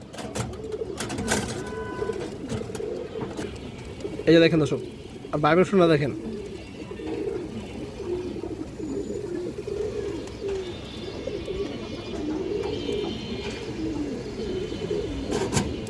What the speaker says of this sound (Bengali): একদম র একটা পাঙ্খি কবুতর দর্শক